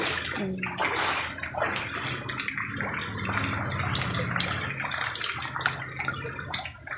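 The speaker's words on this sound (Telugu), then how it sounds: "ఇప్పుడు నీళ్ళు తగ్గినాయి ఆరు నాపాయలు వచ్చినాక పోతున్నాయి నీళ్ళు" Rainwater runs out of a flooded house in a continuous close rush and gurgle, steady and fairly loud, with no talking.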